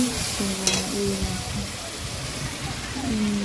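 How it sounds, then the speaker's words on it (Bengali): Vegetables that were already fried are tipped into a cooking pot, where they sizzle and fry steadily throughout; a voice speaks intermittently over the sizzle. "সবজিগুলো এবারে দিয়ে দেবো হাঁড়ির মধ্যে।"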